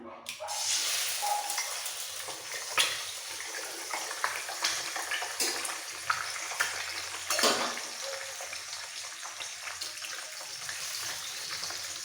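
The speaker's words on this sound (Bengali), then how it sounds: "সবার আগে ডিমটা ভেজে নেবো তেল ভালোভাবে গরম হয়ে গেছে এবার ডিমগুলো এর মধ্যে ছেড়ে দেবো" Eggs frying in well-heated oil, a soft steady sizzle with watery crackle and a few louder spits and clinks of a utensil, fairly quiet and free of talk.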